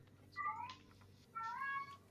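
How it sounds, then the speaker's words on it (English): A cat meows twice in the background, each a drawn-out, rising and falling wail, clear but not loud, over a quiet room hum. "apologies for the cat singing in the background."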